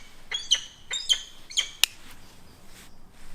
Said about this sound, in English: Whoa, is that like a peregrine falcon?